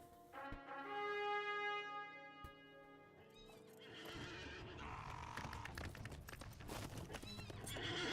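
A war steed in The Lord of the Rings Online gives a long, loud whinny, and then its hooves take up a quick, steady clip-clop on the ground close by.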